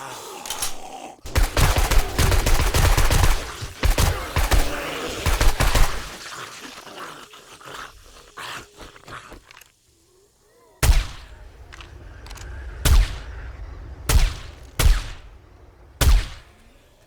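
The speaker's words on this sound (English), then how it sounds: "This sniper rifle is no joke." Sniper rifle fire in 7 Days to Die, with heavy booming shots in a dense cluster at first. Then comes a quieter stretch, followed by several separate sharp cracks spaced a second or two apart.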